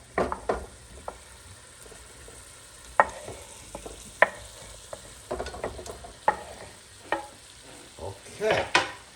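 Tomato and chorizo cooking in a pan, a low steady sizzle broken by close clicks and scrapes of stirring that come and go and build toward the end.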